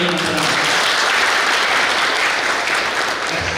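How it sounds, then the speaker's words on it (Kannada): Loud applause fills a meeting hall, a dense, sustained wash of many hands clapping close by, tapering slightly near the end. "ಅನುಮೋದನೆಯಿಂದ ಜೋರಾದ ಚಪ್ಪಾಳೆ"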